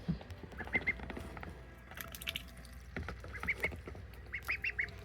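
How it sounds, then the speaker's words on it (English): Baby ducklings peep and quack softly in short repeated bursts, close and fairly quiet, with light scuffling and rustling from the birds in a quiet indoor setting. "I can't even record a peaceful moment of ducks without some sort of excitement happening in the background."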